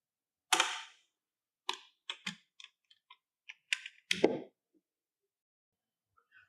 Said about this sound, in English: Remove the air filter cover.